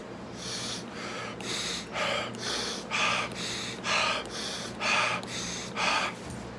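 A person breathes in and out through both nostrils in a steady, even rhythm, about a dozen close, audible sniffing breaths in a row with no talking.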